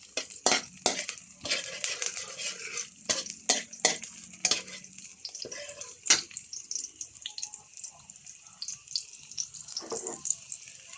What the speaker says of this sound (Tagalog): Pag-brown yung bawang, hulog na natin ng pork.